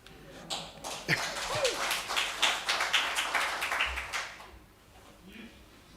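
Scattered applause from a small audience at a regional health assembly, a burst of claps swelling for a few seconds then thinning out, with brief voices underneath.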